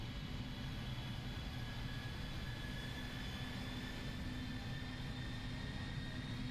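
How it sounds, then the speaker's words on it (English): CFM jet engines on a simulated ToLiss A319 airliner spool up in the X-Plane 11 flight simulator, a steady, quiet cabin drone with a low rumble and a thin, constant high whine, with no voices over it. "You guys can kind of hear those CFM spooling up there"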